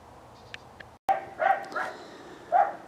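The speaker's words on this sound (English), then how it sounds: "Sorry for the dogs barking" Dogs barking outdoors, a few loud barks in quick succession after some faint yips, fairly close.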